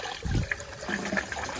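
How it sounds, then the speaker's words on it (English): A toilet flush sends a rush of water swirling and draining in a domestic room, moderately loud with a steady trickling wash and no talking. "we're getting toilet flush after toilet flush here"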